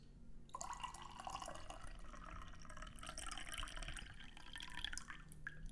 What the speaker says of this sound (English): So we're gonna pour the second infusion out now.